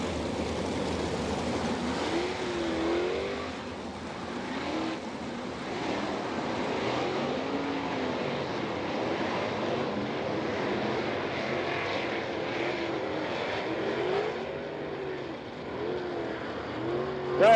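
Winged race cars come out of turn four at Wakeeney Speedway in Kansas, a loud, continuous roar of several engines whose pitch rises and falls as they sweep past, with no talk over it.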